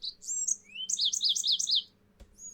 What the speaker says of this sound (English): There's my bird.